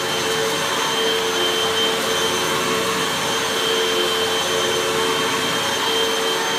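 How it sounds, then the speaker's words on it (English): A Hoover WindTunnel 2 Rewind Pet upright vacuum cleaner runs continuously with a loud, steady roar and whine, close by, with no talking. "this is one of those vacuums you find at the Walmart."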